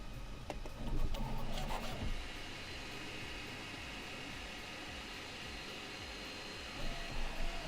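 A Qidi Q1 Pro 3D printer runs steadily throughout, its motors whirring with repeated stepping pulses and a brief louder burst near the start that may be skipping, with no talking.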